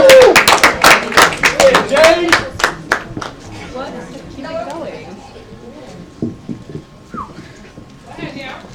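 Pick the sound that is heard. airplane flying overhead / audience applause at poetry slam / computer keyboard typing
audience applause at poetry slam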